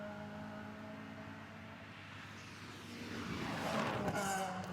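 A second-generation Renault Clio Group N rally car accelerating on a Spa rally stage, engine note rising and growing louder as it approaches, with steady background noise throughout.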